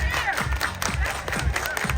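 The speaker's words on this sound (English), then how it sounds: "Everybody clap your hands." A crowd claps along at a Carnival Glory cruise sail away party, rhythmic hand claps over loud music and cheering voices, busy and close.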